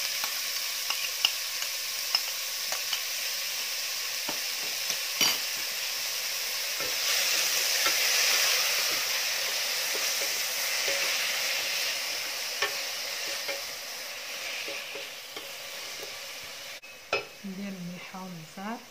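Fried onion dropped into a pot of Moroccan brown lentil soup with olive oil, a steady sizzle swelling midway with occasional spoon clinks against the pot, ending in a brief scrape.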